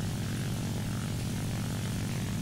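Propeller airplane engine in the War Thunder video game, a steady loud droning hum with a constant throb, no voices over it.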